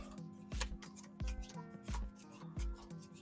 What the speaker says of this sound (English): This is actually how I normally shuffle